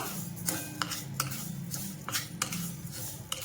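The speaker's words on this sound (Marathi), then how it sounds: "परतत राहायचे सारखं हलवत राहायचं याला अजिबात थांबायचं नाही" A spoon stirs sugar melting in ghee in a pan, making quick repeated scrapes and light metallic clinks over a soft, steady bubbling hiss.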